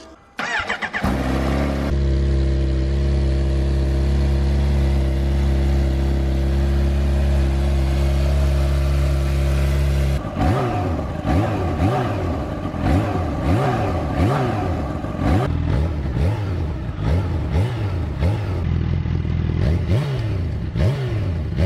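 A Kawasaki Ninja H2 with a full Vandemon exhaust system starts up close by and idles with a deep, steady drone for several seconds. It then breaks into a series of sharp, rising revs that repeat in quick succession.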